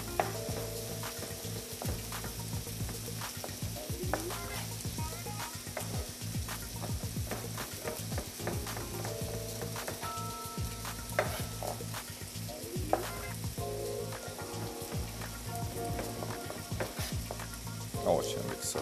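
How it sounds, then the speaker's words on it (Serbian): Button mushrooms and sliced pickles fry over low heat in a pan for a chili chicken dish, with a steady close sizzle and occasional stirring scrapes throughout, no talking. "Sad ćemo da ubacimo šampinjone. Stavit ćemo na laganiju vatru."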